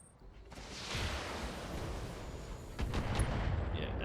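Machine guns fire in the BattleTech Extended mod, sustained rattling bursts at moderate distance, with a sharper, louder volley near the end, under a faint voice.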